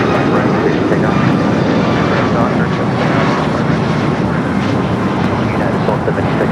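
A jet airliner taking off from runway 25 right at LAX, giving a loud, steady broadband engine roar that holds unbroken throughout. A radio voice is faintly mixed in underneath.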